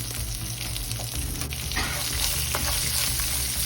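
Onion added to ginger, curry leaves and chilli frying in a pan for upma crackles in a loud, continuous close-up sizzle, with light stirring scrapes and the hiss growing slightly stronger partway through.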